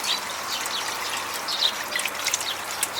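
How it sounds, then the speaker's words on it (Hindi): Water is poured over layers of newspaper in a vermicompost bin, a soft continuous trickle and splash with small bright droplet sounds, close and moderately loud, with no voices. "अब मैं इन अखबारों को गीला करने के लिए ऊपर से अच्छी तरह से पानी दूंगी।"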